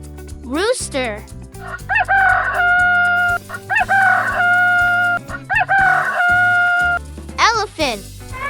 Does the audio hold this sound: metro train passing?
no